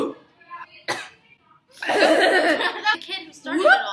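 A voice imitates a whooping cough with sharp, breathy cough bursts followed by drawn-out, strained whooping intakes, loud and close.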